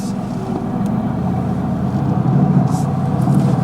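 A Mercedes AMG GT S with a 4-litre twin-turbo engine pulls away, its deep engine note steady and close, building slightly in loudness toward the end.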